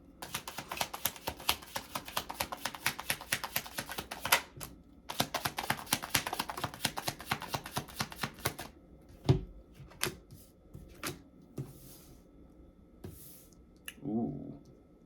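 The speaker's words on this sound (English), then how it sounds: "Okay, I'll get the cards out first," Tarot cards are taken out and handled: rapid crisp shuffling clicks for several seconds, a short break, more shuffling, then scattered soft taps and slides of the deck, close and quiet.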